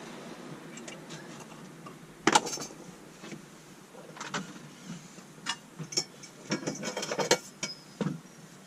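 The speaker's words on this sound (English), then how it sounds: "the side does fold out, and I'll show you how I do that now" Side panel of a Ford Transit campervan cabinet being folded out into a worktop, giving a series of close clicks, knocks and light mechanical rattles with a sharp clunk near the start and a cluster of taps toward the end.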